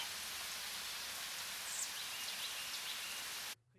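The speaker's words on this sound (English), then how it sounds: "Rain began to pour" Steady, dense rain hisses continuously, then cuts off abruptly near the end.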